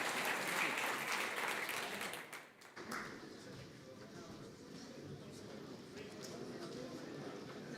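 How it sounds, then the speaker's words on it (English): An audience applauds a conference panel, a dense wash of clapping that thins and quiets after a couple of seconds into scattered claps, with faint voices murmuring beneath. "Please join me in a round of applause for our brilliant panel"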